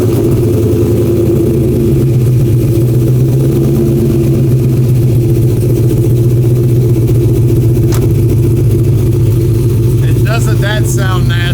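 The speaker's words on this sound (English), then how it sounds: "It's got an LS9, which everybody knows, well over 600 horsepower. Let's fire this thing up, see what it sounds like." An LS9 engine making well over 600 horsepower idles loud and close with a deep, steady rumble, in a car with a big fat rear tire; a faint voice comes in briefly near the end.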